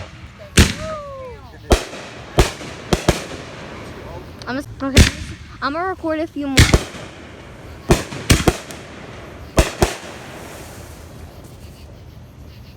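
Fireworks bursting outdoors with sharp, loud explosive bangs scattered irregularly, some crackling and whistling in between, while people talk nearby.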